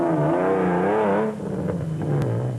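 The Ford 4-litre engine of a rally car at the 2005 Toyota Dealer 1000 revs loudly and nearby, its pitch rising and falling in surges before settling into a lower, steadier drone.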